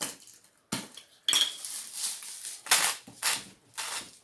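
A utensil scrapes and clanks around a bowl while meatless taco filling gets mixed, a series of irregular metallic clinks and scraping strokes, close and fairly loud, with short pauses between them.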